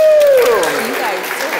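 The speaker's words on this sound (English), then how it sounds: "give her a round of applause." Loud clapping from an audience, with a voice whooping over it as the applause carries on.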